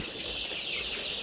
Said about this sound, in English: We have improved kienyeji chicks in thousands.